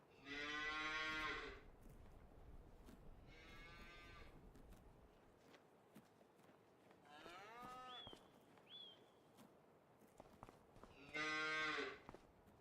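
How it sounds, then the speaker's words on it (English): Meat cattle on a Michigan farm moo loudly and close by, three long bellowing calls spaced several seconds apart, with quieter farmyard noises in the gaps. "Yes, we have cows. We have cattle."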